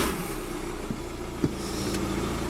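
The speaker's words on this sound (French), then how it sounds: "Donc on va démarrer la voiture." A 2006 Audi A3 Sportback engine hums at a steady idle after a clutch replacement, a close mid-pitched running drone with a couple of light knocks and no talking.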